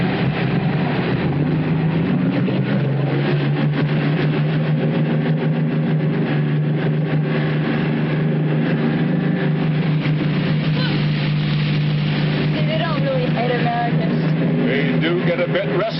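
A boat engine at full throttle drones loudly and steadily at high revs, a continuous low roar with voices speaking over it.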